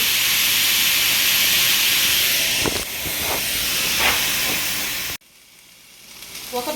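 Seasoned beef steak sears in a skillet over medium heat with a loud, dense, close hiss. The sound cuts off abruptly near the end, leaving quieter kitchen noise.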